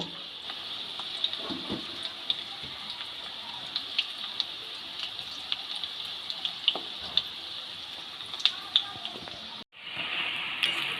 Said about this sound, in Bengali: ব্যাটারে চোবানো বাকি সোয়াবিনগুলো আমি একইভাবে ভেজে নেব